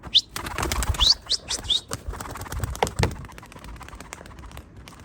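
A pigeon takes off with a few loud wing flaps near the start, followed by fainter rustles and thumps as it flies.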